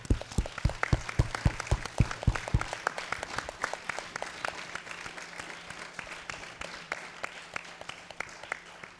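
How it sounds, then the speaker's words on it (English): A crowd applauds steadily, many hands clapping in a dense, sustained wash that starts strong and continues evenly throughout. "So we'll have a great round of applause for all the mothers who are doing great."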